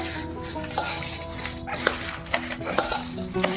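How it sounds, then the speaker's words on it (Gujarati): Bhel of puffed rice, sev, onion and tomato is tossed and mixed by hand with a spoon, giving a rustling crunch with repeated light clinks against the bowl, close and moderate. "મારો ભાઈ મિક્સ કરી રહ્યો છે"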